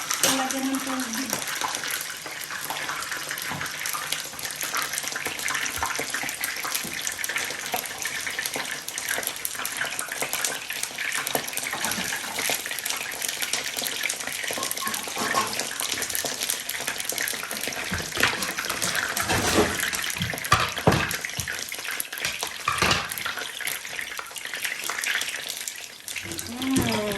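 Steady tap water runs continuously in a home kitchen while spring rolls, pancit noodles and chicken are prepared, a broad even hiss with a few clinks mixed in.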